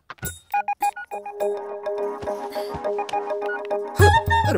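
A cellphone ringtone plays a repeating melodic tone pattern, fairly loud and close, with a few knocks and a louder rustle near the end.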